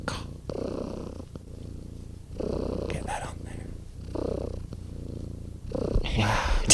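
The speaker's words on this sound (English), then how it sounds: "Sorry, a little ASMR purring break." A house cat purrs close up while resting in a lap, a steady rumbling purr that swells and fades in regular breathing cycles of roughly two seconds each, with a brief soft rustle near the end.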